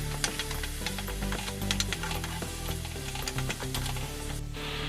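Prawn masala sautéing in a pan, a steady close sizzle of frying with occasional stirring scrapes running throughout.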